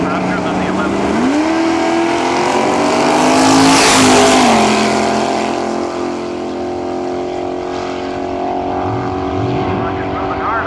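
Nostalgia drag racing cars, including a 383 Barracuda and a 23 Roadster, roar down the strip at Cayuga, Ontario; loud engines rise in pitch as they accelerate, swell near and fade away, with an announcer talking over them.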